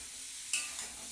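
Pointed gourd slices seasoned with salt and turmeric frying in hot oil give off a steady, fine sizzle, with a brief stirring scrape partway through, close and without talk.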